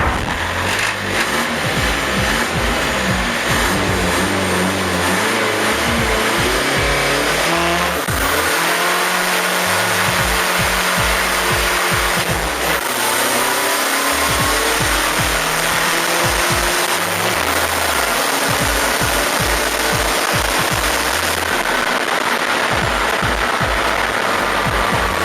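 Race car engines accelerate hard at a Run400 motorsport event in Réunion, loud and continuous, with rising revs, gear changes and overlapping passes from near to far, no voices over the roar.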